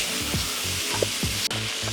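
Diced white onion cooks down in a pan with a steady, soft sizzle and occasional stirring scrapes, heard up close with no talk.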